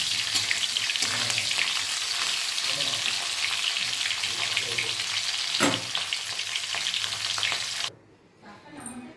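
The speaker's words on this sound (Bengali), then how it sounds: "ভাজা রয়েছে, একটু হালকা করে ভেজে এখন তুলে নেব।" Fish head frying in hot oil for a bottle gourd ghonto, a loud continuous crackling sizzle heard up close, with one sharper spatter midway before the sound cuts off near the end.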